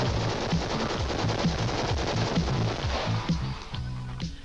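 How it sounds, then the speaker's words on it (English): A light machine gun from Singapore's Chartered Industries fires a long sustained burst of rapid, loud, evenly spaced shots that breaks into shorter bursts near the end. "a sales promotion tape produced by the Singapore state-owned arms factory, Chartered Industries, touting a new light machine gun"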